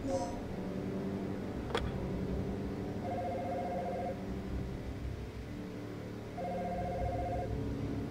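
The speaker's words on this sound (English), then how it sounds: "If you set the line to hold, the phone will continue to ring automatically" Telephone in the Dino Crisis research facility ringing, two short electronic ring bursts several seconds apart, heard at moderate level over a steady low background hum.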